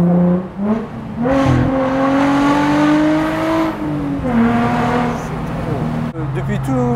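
A Nissan 350Z cabriolet's exhaust revs up and down in loud, sustained drones with shifting pitch across the whole stretch, and voices are heard over it.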